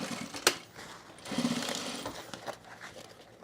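A sewing machine stitches fabric, a quiet rapid mechanical chatter in short bursts with a sharp click at the start.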